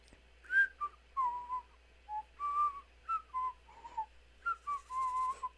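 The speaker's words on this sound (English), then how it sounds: "So that's where I usually start to whistle." A person whistles a simple melody of short, clear tonal phrases with small pauses between them during a live oil painting session. The whistling is close, a little unsteady, and heard alone.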